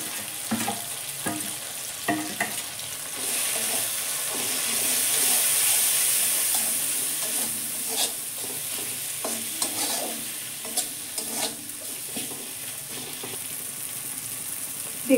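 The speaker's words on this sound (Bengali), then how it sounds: "দেখুন আমার মশলা ভাজা হয়ে গেছে।" Spices for a lentil and cabbage dal fry in a pan with a constant sizzling hiss, swelling briefly, while a spatula scrapes and stirs in uneven strokes close up, no voices.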